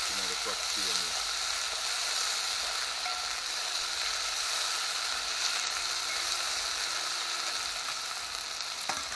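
Onion fries in a pot, giving a steady, close hiss of sizzling oil with a few faint clicks of stirring near the start, continuous and even throughout.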